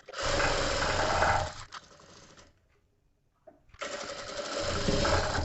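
An electric sewing machine stitching a blouse sleeve into a katori blouse, running in two steady bursts of fast whirring with a short near-silent pause in between, close and loud.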